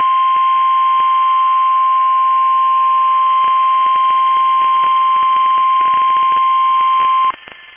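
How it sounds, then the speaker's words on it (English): A loud, steady NOAA Weather Radio warning alarm test tone from station KEC 74 holds at a single pitch for about seven seconds over broadcast static, then cuts off abruptly. "This concludes the weekly test of weather radio station KEC 74."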